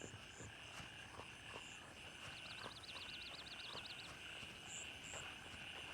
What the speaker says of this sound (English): The frogs and the birds and everything.